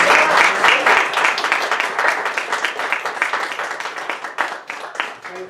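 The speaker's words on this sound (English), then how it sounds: "Let's give them another round of applause." Another round of applause at a bar mitzvah reading: lively, close clapping from a small audience, loud at first and gradually thinning and softening toward the end.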